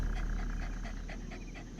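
A pet dog named Delta V pants in the Satisfactory video game, quick, even rhythmic breaths repeating steadily, close and fairly soft.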